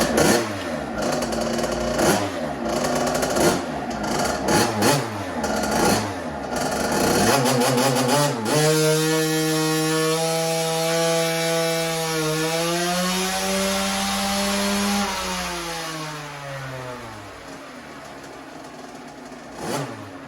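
A 2007 KTM 50SX two-stroke motorcycle engine on a dyno revs through rapid throttle blips, then holds a loud sustained pull rising steadily in pitch before dropping away as the run ends.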